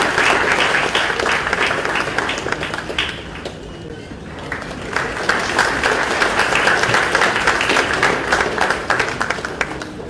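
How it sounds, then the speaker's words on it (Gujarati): Sustained applause from a large audience at the Vibrant Gujarat, Vibrant Valsad business summit, dense clapping filling the hall for about ten seconds with a brief dip midway before swelling again. "તાળીઓના અંતરાલ સાથે આપણે અભિનંદન પાઠવીશું"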